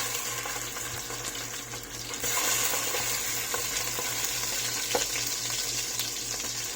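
Sausage frying in oil in a pan makes a steady, close sizzle that crackles on without a break, with a low hum running underneath.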